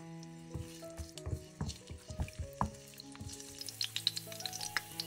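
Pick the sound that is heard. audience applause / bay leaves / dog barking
bay leaves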